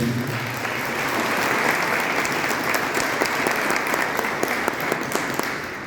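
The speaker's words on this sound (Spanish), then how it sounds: "Lo recibimos con un aplauso, Diego Asini." Sustained applause from an audience at a parish church gathering presenting a papal encyclical, steady dense clapping filling the room for several seconds with no talk over it.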